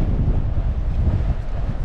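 Strong wind buffets the microphone of a motorcycle riding along gravel roads in Norway, a constant low roar that fills the whole stretch without pause, close and loud, with no voices over it.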